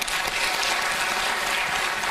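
An audience applauds Neha at a talk show, a steady, dense wash of clapping that holds at an even level throughout without pauses.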